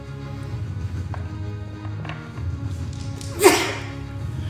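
A single sharp sneeze bursts out near the end over a steady low background hum and faint rustling.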